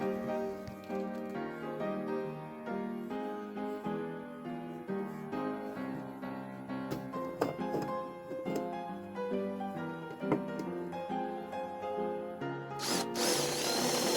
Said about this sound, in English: I started off by drilling and tapping a hole for the inlet fitting.